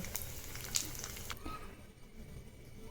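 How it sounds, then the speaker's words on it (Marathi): Edible gum (dink) fries in hot oil for dry fruit laddoos, a soft steady sizzle and bubbling that is faint and close, with a small clink early on and the frying easing off slightly midway. "व्यवस्थित तळून घ्यायचा डिंक"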